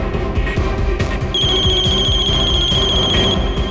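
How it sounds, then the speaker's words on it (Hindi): Old-style telephone bell ringing in a Hindi crime drama scene: fast, loud, close repeated bell trills run throughout, with a high sustained tone layered over the second half. "फोन उठाओ"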